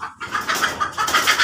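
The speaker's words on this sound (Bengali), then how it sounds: "এই যে একটা মুরগি এখানে বসা আছে" A hen perched up high gives a short run of soft, close clucking calls in a quick pulsing rhythm, lasting barely over a second.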